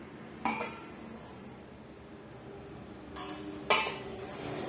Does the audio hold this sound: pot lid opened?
yes